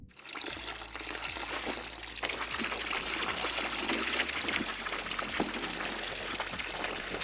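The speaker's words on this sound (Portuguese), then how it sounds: "Vamos pegar o caldeirão que tá frio aqui. E vamos despejar aqui, né?" Liquid pouring from a cold kettle while brewing beer in the Brewmaster brewing simulator game, a steady close trickle and splash of water running for several seconds without pause.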